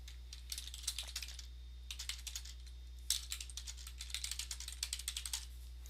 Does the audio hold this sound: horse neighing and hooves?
no